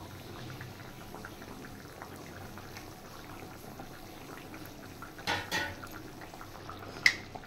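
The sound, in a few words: Parshe fish curry boiling in a pot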